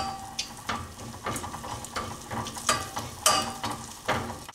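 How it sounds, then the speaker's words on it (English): Mustard seeds popping in hot oil with cumin seeds and fresh and dry ginger, sauteing spices for an Ayurvedic quinoa khichari, heard as a steady close sizzle broken by scattered sharp pops and crackles, with no talking. "So you can just hear the mustard seeds beginning to pop."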